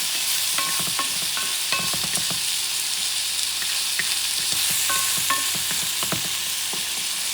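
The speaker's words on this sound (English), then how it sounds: "Garlic, generous amount. Sauteing this baby." Garlic sautéing in a pan for a spicy stew, a steady close sizzle with repeated scraping and stirring clicks of a utensil against the pan, no voices.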